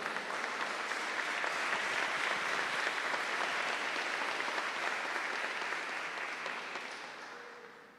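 A church congregation in a Brazilian Congregational church gives a round of applause, a dense, even wash of clapping that holds steady and then fades out toward the end, with no voices over it.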